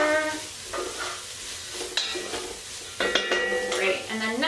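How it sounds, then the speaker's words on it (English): Celery and cabbage stirred into softening onions in a pot for borscht, with a spoon clanking against the metal and a soft sizzle beneath, a few sharp knocks near the end. "Plop that in and give it a stir."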